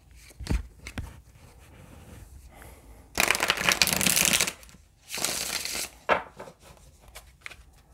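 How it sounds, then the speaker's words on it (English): Cards being shuffled in two quick riffling bursts, crisp and close, with a few soft taps and handling noises before and after. "Let's shuffle one more time."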